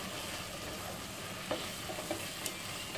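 Cinnamon sticks and bay leaves sizzle and crackle steadily in hot oil, with a few sharper pops and stirring scrapes.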